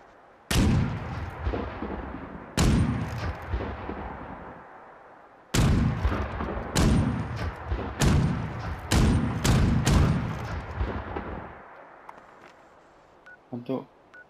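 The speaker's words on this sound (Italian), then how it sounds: "Che spari." Loud gunshots crack out in separate blasts, some single and some in quick bursts, each trailing a rumbling echo, with faint talk in the gaps.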